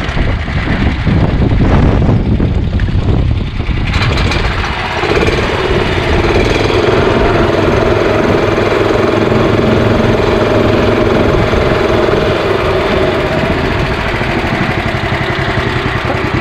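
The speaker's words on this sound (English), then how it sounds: "That's idle right there, that's pretty good." Gas engine of an EZGO Workhorse 1200 utility golf cart, loud and close, with rough revving and clatter at first, then settling into a steady idle putter that runs on alone.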